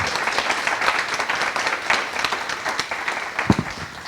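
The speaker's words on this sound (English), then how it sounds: "let's have a huge round of applause for" An audience at a housing policy community discussion applauds the panelists, a steady wash of many hands clapping close by, with a sharp louder clap near the end.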